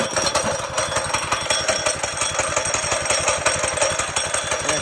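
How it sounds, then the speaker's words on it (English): A small motor with its choke on fires up and runs, a loud, fast, steady mechanical chatter that goes on without pause and stays close throughout. "we probably should start this motor up"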